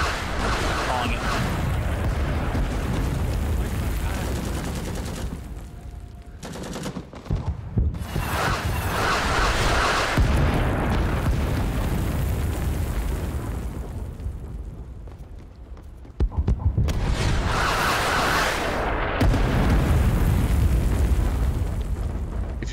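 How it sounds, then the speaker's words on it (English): A sustained artillery barrage in Rising Storm 2, the Vietnam War shooter, heavy rumbling explosions rolling almost continuously with brief lulls, loud and dense, while players talk over the din. "Yeah, artillery coming, danger close on Delta, sorry."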